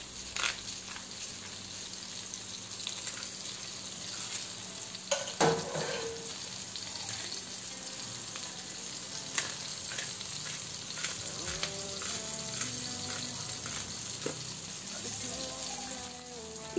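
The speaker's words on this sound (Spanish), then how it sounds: "Y vamos a sofreír" Chopped vegetables with bay leaf, oregano, cumin, salt and pepper sauté in a pan, a soft steady sizzle with scattered clinks and stirring scrapes, fairly quiet throughout.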